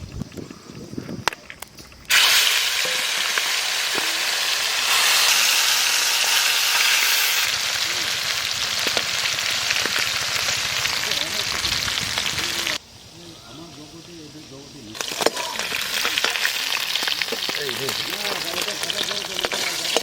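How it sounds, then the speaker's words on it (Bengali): Lata fish frying in oil in a pan at the edge of a jungle pond during village-style outdoor cooking, a loud continuous sizzle that drops briefly then surges back as more fish go into the oil. "তেল দেবো লেঠা মাছগুলো ভাজবো"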